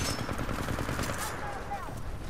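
Rapid gunfire from the Kraber sniper rifle in the video game Titanfall 2, dense and continuous, with a voice talking over it.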